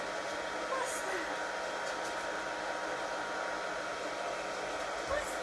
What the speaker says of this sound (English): Don't put the dryer into their ears, do it from behind